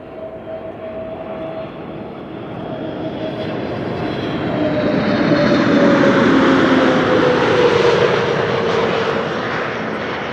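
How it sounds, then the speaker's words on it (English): A KLM airliner on approach to Amsterdam Schiphol, arriving from London Heathrow, roars in with a swelling jet rumble and whining engine tones that shift in pitch as it passes close by, peaking midway and then easing slightly, with no talk. "Next arrival, KLM flight 1004, arrival from London Heathrow."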